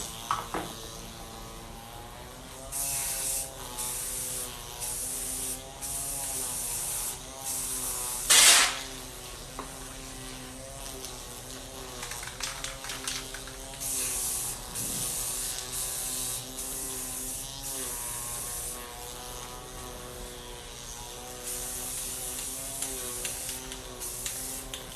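Handheld spray bottle misting colour onto a rolling tray in a string of short, close hisses with irregular pauses between them, plus one louder burst partway through and a faint hum underneath.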